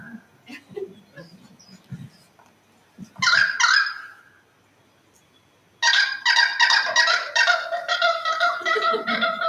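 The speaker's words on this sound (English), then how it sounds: "it is a pied currawong morphing backwards and forwards into a kookaburra" Machine-generated birdsong morphs back and forth between a pied currawong call and a kookaburra call: scattered low calls first, then two loud bursts of dense, harsh, cackling, squawking calls, the second one long and continuous.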